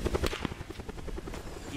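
Helicopter rotor chopping from a Call of Duty Black Ops match, a steady rapid thudding pulse at moderate level that runs through the whole short stretch with no talk over it.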